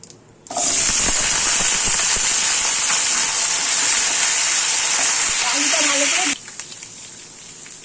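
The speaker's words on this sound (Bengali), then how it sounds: "এবার আমি এর মধ্যে আলুটা দিয়ে দিচ্ছি।" Potato pieces hit hot oil already fragrant with fried tempering spices for a vegetarian banana-stem curry, setting off a loud, steady sizzle that holds for about six seconds before cutting off to quiet.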